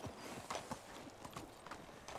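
Horse hooves clip-clop in the medieval life-sim game Medieval Dynasty, a quick, even series of soft close thuds over a low ambient bed as the rider walks toward a building.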